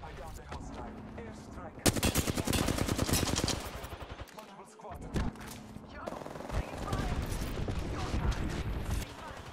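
Rapid automatic gunfire crackles in bursts during an Apex Legends match, with loud volleys, short pauses and mechanical clicks and rattles between them.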